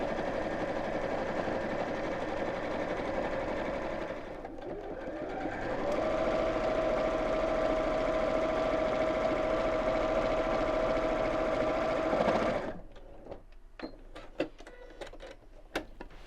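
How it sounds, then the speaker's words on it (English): A sewing machine runs steadily for about twelve seconds, stitching fabric side seams for a bottle gift bag, then stops and gives way to a few light clicks and fabric handling sounds. "I'm just matching the seam at the side here as I start to sew"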